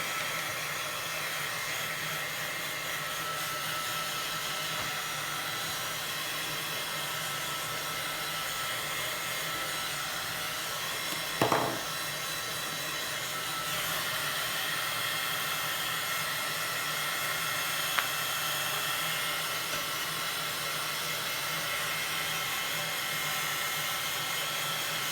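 A heat tool blows steadily at close range to dry ink sprays on paper tags, giving a constant airy whir for the whole stretch with only a brief knock partway through.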